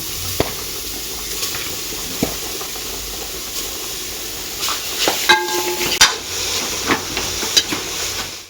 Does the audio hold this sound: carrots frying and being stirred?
yes